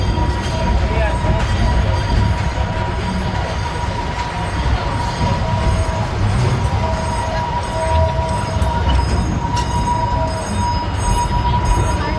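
A small amusement park train at Cedar Point in Sandusky, Ohio rumbles steadily along with a continuous metallic squeal, a constant rolling din throughout, with low voices mixed in.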